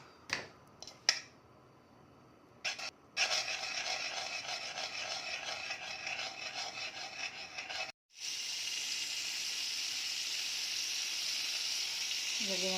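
Margarine melting in a frying pan. After a few clicks and knocks comes a steady close hiss of sizzling that carries on, briefly cut off, then resumes loud and constant.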